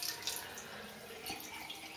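Hot water running from a bathroom sink tap, a soft, steady faint splashing hiss that stays even and uninterrupted, with no voices.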